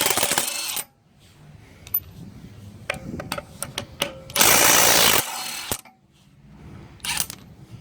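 A Milwaukee M12 cordless 1/2-inch impact wrench on wheel nuts with dirty threads, heard as close, loud bursts of rapid hammering separated by short clicks and pauses, with one long sustained burst in the middle.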